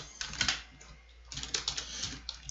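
Code is typed on a computer keyboard in quick clusters of light key clicks. A short pause splits two bursts of typing, which sound close and fairly quiet over a faint steady hum.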